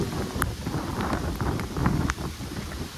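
Strong wind drives heavy rain in rural Konkan during the first storm of the season, a close, continuous rushing wash with occasional gusty surges and no one speaking.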